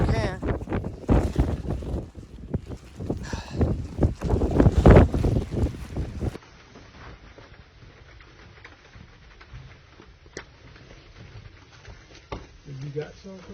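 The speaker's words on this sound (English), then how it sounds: "This is the craziest wind I've ever experienced." Strong gusting wind buffets the microphone on a mountain trail above the tree line, loud and roaring for the first half before easing into a quieter, steady rush.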